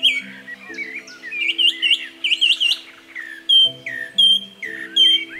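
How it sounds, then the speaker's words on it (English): A song thrush sings nearby, loud and clear bright whistled phrases, each repeated several times in quick succession before moving on to a new one, over a faint low background hum. "The song thrush will pick a phrase and it'll dwell on it, so it will repeat it 3-4 times."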